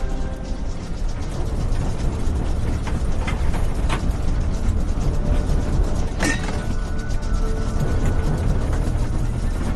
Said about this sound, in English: There's sort of grinding noises and smells in the cabin that I wasn't used to.